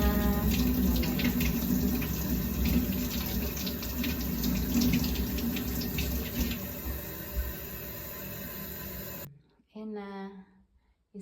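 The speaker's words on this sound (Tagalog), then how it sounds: "Lasan natin bago iakyat ang itlog. Para malinis na." Tap water runs steadily into a sink as eggs are washed by hand, a continuous close splashing hiss that cuts off near the end, leaving a brief voice in the quiet.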